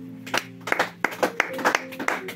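A congregation claps in acclaim of the Lord during a church gathering, with a string of irregular hand claps ringing over sustained singing or music in the room.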